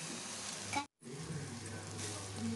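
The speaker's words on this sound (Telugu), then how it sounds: "మనకి ఈ ఆయిల్లో ఈ పచ్చడి అనేది మనకు బాగా మగ్గిపోవాలి." Chutney cooking in oil makes a soft, steady sizzle with a faint stirring sound, broken by a brief dropout.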